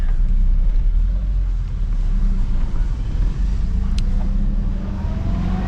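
A car driving out of Kathmandu, Nepal, gives a steady, loud low rumble of engine and road noise heard from inside the vehicle, continuous throughout with no talk.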